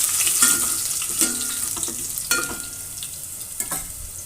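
Coarsely crushed garlic fries in a pan for tomato rasam, an airy sizzle broken by a handful of sharp spoon scrapes and clinks against the pan, close and unaccompanied by talk.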